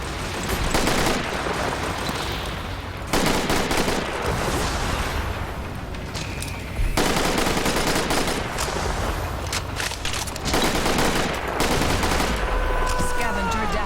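Sustained turret gunfire in a video game, dense bursts of automatic shots firing nearly continuously with brief pauses, loud and close, with some game noise mixed in.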